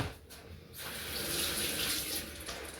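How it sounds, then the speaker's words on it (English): Cold tap water runs steadily into a kitchen sink over freshly boiled eggs, a continuous hiss and splash that swells slightly after a short quieter start. "We might have to just run them under some cold water."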